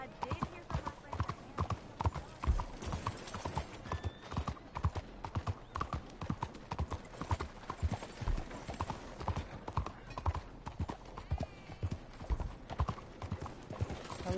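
A horse's hooves clip-clop in a steady walking rhythm in Red Dead Redemption 2, close and continuous, while voices talk over them throughout.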